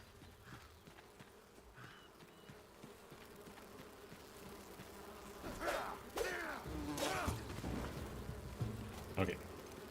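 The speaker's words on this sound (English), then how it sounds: "Can't quite kill the bees with the sword yet." Bees buzz in the video game Enshrouded, a soft persistent droning hum under quieter game noises, with a few louder swooshing hits and clanks toward the end.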